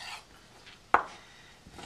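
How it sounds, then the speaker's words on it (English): A knife chops through oranges on a cutting board in a kitchen, one sharp near thunk mid-clip amid quiet rustling, with no voices. "We're going to cut that in quarters."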